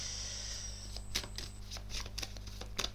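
Tarot cards shuffled and drawn during a reading, soft close riffling and flicking with a few sharper card snaps, quiet against a steady background hum.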